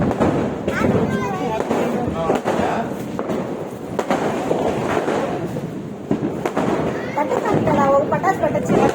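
Diwali firecrackers go off outdoors as sharp bangs and crackles in an irregular series, some close and loud, others farther away, with wind rumbling on the microphone and voices talking in between.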